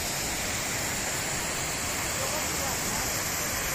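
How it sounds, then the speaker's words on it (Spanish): The Reguera de Cochero, a stream feeding the Río Aller in Asturias, rushes steadily downhill with a loud, continuous broadband roar of churning water and no pauses. "mira cómo baja el río"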